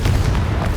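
Loud explosive rumble from a Confringo fire spell in Hogwarts Legacy, a brief dense low boom filling the moment with no talk.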